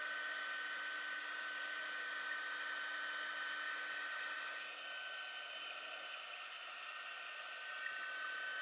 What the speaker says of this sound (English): And then you can start to move your heat tool around.